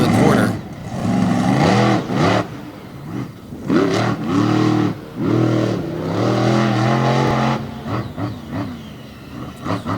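A monster truck engine roars during a freestyle run at an event, loud and continuous with repeated revving surges and rising and falling pitch, while an announcer talks over it.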